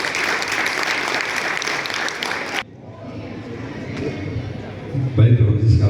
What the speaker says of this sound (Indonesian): kita berikan tepuk tangan meriah